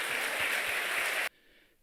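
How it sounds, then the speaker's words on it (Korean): Church congregation applauding at an evening revival service, a dense steady wash of clapping that cuts off abruptly, leaving only faint room tone. "우리 하나님께 영광의 박수입니다"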